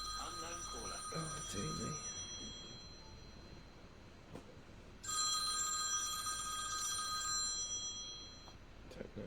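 A phone rings with a call from an unknown number, tonal ring bursts heard at moderate level against background noise while a person speaks briefly.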